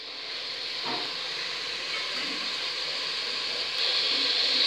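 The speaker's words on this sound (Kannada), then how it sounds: "ಸೊ ಮಟನ್ ಫ್ರೈ ಆಗ್ತಿರುವಾಗಲೇ 1/2 ಟೇಬಲ್ ಸ್ಪೂನಷ್ಟು ಉಪ್ಪು ಹಾಕ್ಕೊಂಡು ಫ್ರೈ" Mutton frying with salt in a pan, a continuous close sizzling hiss with a brief clack of a utensil early on, growing slightly louder near the end.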